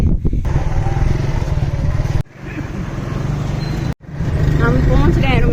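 A motorbike struggling on a rough rural ride rumbles steadily with its engine drone, broken by two sharp jolts, while someone talks over it.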